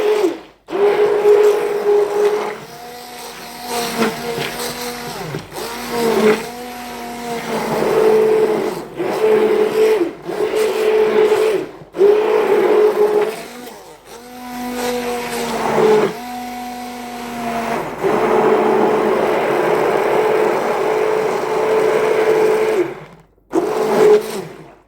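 An electric blender whips a loose batter with butter added, running in loud whirring bursts that rise and fall with short pauses between them, alone without talk.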